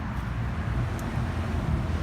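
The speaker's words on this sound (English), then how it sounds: "Sorry about the road noise." Steady road traffic from a busy street nearby, a continuous low rumble and wash of passing vehicles filling the background at moderate level, with no distinct events standing out.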